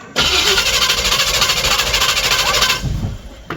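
A small-block or big-block Chevy V8 cranks over on its starter after a new mechanical fuel pump is fitted, a loud, close, rhythmic churning pulse running for about three seconds before slowing.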